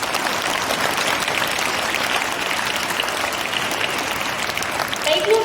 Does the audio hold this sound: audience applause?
yes